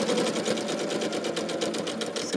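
A sewing machine runs steadily while stitching around a fabric house pomander made from Tilda fabrics, producing a close, continuous motor whir with a fast even needle rhythm and no speech.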